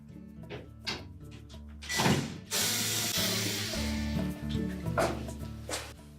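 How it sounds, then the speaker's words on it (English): Close mechanical clicks and ratcheting from a hand tool removing screws from a Whirlpool dryer's top, with a few short bursts of whirring and metallic rattles. "we're next going to remove these two screws that secure that main top to the cabinet"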